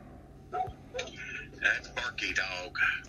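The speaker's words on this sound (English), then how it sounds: "That's Barky Dog. It's the neighbor's dog." Neighbor's dog barking, heard as a run of short yips and barks at moderate distance, spaced irregularly over a few seconds.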